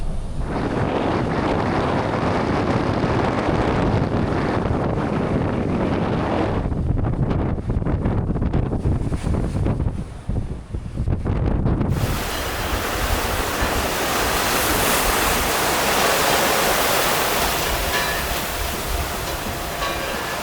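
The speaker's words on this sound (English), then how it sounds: "Today we've got the wind behind us. Pretty good sized waves pushing us." A yacht running downwind through sizable sea waves: loud, continuous surf and rushing water with heavy wind buffeting the microphone, the wash shifting in tone partway through before roaring on steadily.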